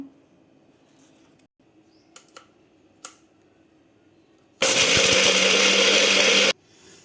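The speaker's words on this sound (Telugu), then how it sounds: "జీడిపప్పు ఉల్లిపాయలు పచ్చిమిరపకాయలు ఇవన్నీ మిసి మిసి పెట్టేసుకుందాం" A mixer grinder blends cashews, onions and green chillies into a masala paste for stuffed brinjal curry, a loud, dense whirring roar of about two seconds that follows a few faint knocks and clicks in a quiet kitchen.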